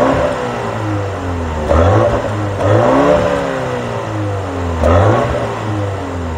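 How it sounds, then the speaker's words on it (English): A BMW X2 M35i, a four-wheel-drive SUV making 233 kW, revs in sports mode while recorded from outside, with a steady loud engine drone swelling into three or four brief rev surges. "So talking about the engine, let's quickly hear what this beast sounds like."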